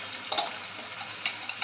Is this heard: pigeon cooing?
no